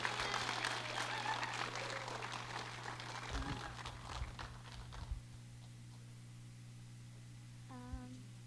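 A crowd at a Little Cherokee Ambassadors event bursts into applause, a dense wash of clapping that thins and fades out after several seconds, leaving quiet room tone with a brief voice near the end.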